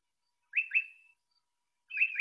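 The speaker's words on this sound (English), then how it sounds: "here's a little bird, one of these ubiquitous, one of the few really tiny species there, a pardalote." A tiny pardalote calls in the Australian bush, giving a couple of sharp, clear whistled notes, a pause, then another quick double note, isolated against near silence.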